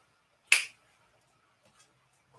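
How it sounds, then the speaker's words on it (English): A single sharp finger snap close to the microphone, a crisp isolated crack followed by near silence. "Did you hear me snap my fingers at him?"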